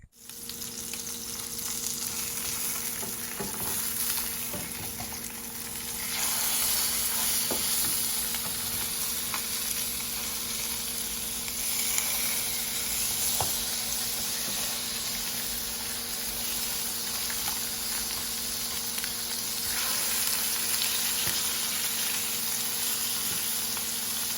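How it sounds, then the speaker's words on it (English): Salmon fries in a pot with a steady, even sizzle and hiss throughout, close up, with occasional faint clicks and no talk. "I'm going to allow the salmon to cook for about 3 to 4 minutes."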